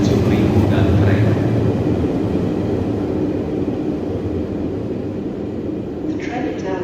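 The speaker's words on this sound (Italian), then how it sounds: "The Trenitalia Frecciarossa high-speed train 9583 from Torino Portanova to Reggio di Calabria Centrale with scheduled departure at 10:27 is now arriving." Trenitalia Frecciarossa high-speed train pulling into Bologna station, a steady loud low rumble and rolling roar filling the platform throughout, with brief voices and a faint higher tone near the end.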